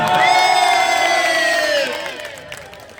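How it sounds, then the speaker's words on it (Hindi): A political rally crowd in Ballimaran cheering and shouting loudly in a dense roar, which drops off sharply after about two seconds into scattered noise. "मैं चाहूंगा सबके लिए एक बार जोरदार तालियां आप लोग बजाएं।"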